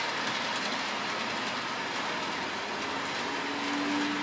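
A model train runs past on a layout with signals, making a steady, close rumble with faint clickety-clack and a thin squeal toward the end.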